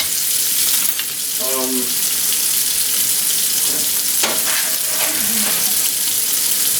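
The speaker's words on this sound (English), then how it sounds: "Let me go wash the wok." Tefal wok rinsed under a running kitchen sink tap, giving a loud steady hiss of water with splashes and scrapes against the pan and brief tonal squeaks, close by with no talk.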